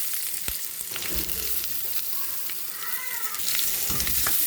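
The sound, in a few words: onions sautéing in pan for tripe curry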